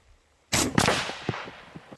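Single loud shot from an AEA Challenger Elite .457 big bore air rifle, a sharp sudden crack with a short echoing tail that fades over a second or so.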